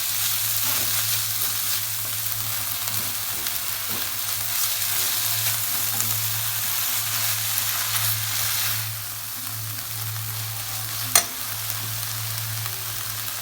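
Steady, even sizzling of vegetables stir-frying in a hot pan, continuous and close, with a low hum beneath and a brief clink near the end.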